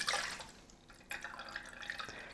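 Homemade grapefruit syrup is poured and drips through a regular kitchen strainer, making a faint close trickle and splash with a louder surge about halfway through and no talk.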